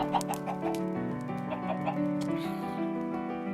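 Chickens in the Minecraft video game cluck softly in short bursts over a steady background music drone.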